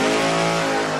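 Drag race car at a grudge match event revving hard on a tune-up run, a loud close engine with strong steady harmonic tones sustained through the whole short burst.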